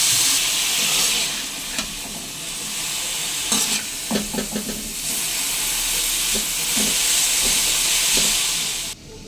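Ridge gourd pieces frying in oil in a pan, a steady close sizzle and hiss with scattered stirring scrapes and clicks as the pieces are turned.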